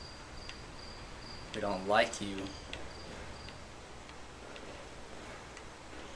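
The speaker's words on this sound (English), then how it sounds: "Cricket, shut up." A cricket chirps in the dark outdoor setting of the horror game Slender: The Arrival, a faint, steady ticking pulse under a brief spoken line from a player.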